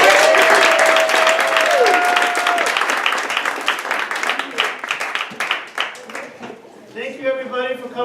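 Warm audience applause fills the room at an awards banquet, dense at first and gradually thinning into scattered claps, as a voice begins speaking at the end.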